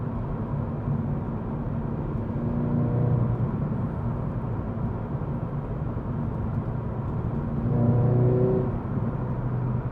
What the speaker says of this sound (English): Get a little bit of induction noise.